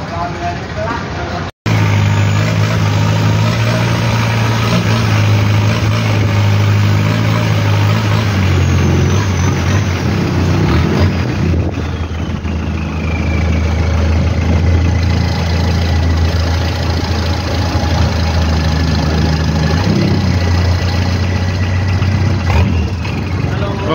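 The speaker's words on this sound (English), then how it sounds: "A flash engine on that boat." A boat engine drones steadily throughout at a Thai floating market, loud and close, with brief voices over the running motor.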